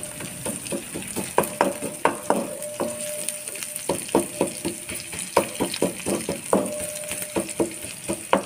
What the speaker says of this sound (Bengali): পেঁয়াজগুলো লাল হলে এই কুচানো রসুন লঙ্কাগুলো দিয়ে দিলাম।